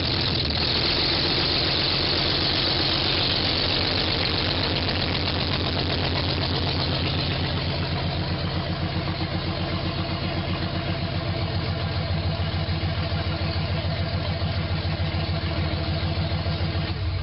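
A car engine fitted with a test exhaust idles with a loud, steady, throbbing rumble that shifts slightly toward the end as the car moves off the ramps. No voices are heard.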